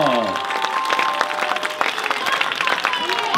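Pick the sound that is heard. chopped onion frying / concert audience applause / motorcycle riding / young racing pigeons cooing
concert audience applause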